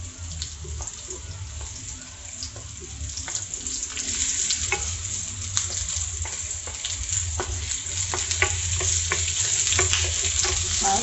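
Onions and garlic frying in a pan for squid adobo, a continuous hiss and sizzle with scraping stirring strokes at irregular intervals, growing slightly louder over the stretch.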